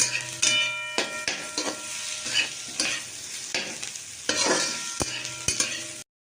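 A sweetened vegetable fry finished with coriander leaves sizzles in a pan while a spatula stirs and scrapes in repeated strokes. The sound is close and alone, and it stops abruptly at the end.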